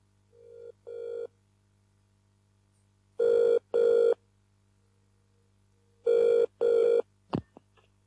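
Old-style telephone bell ringing in two pairs of short, loud rings separated by a pause, followed by a click as the receiver is picked up, over a low steady hum.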